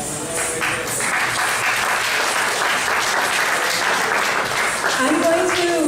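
Audience applause following a student drama performance at a Janmashtami festival gathering, a dense, steady wash of clapping from a large crowd sustained throughout at even loudness.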